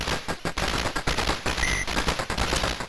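Rapid bullet fire from the Capcom arcade shooter 1942, a dense, continuous rattle of shots lasting throughout, with a brief high electronic tone midway and no talk.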